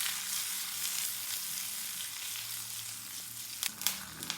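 Coriander seeds, sesame seeds and green chillies fry in an oil pan with a steady, close sizzle and crackle, a few sharper pops and stirring scrapes near the end.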